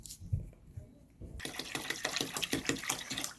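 About a liter of cheap store-brand applesauce poured into a homemade deer attractant mix, giving soft, rhythmic wet glugs and splats close by at low volume.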